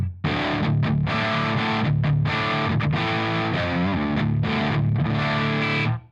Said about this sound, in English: I'm going to set the distortion a little higher